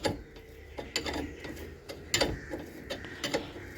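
Metal ratcheting and clicking from a wrench tightening a bolt on a Maruti 800 brake caliper, a run of close, sharp mechanical clicks in uneven bursts with no talk.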